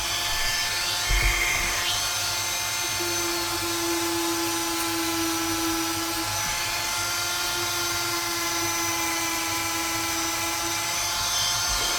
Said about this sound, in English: There's a nice stimulating 45 minutes so far of nothing but Dremel sounds.